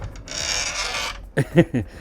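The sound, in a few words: creaking closet door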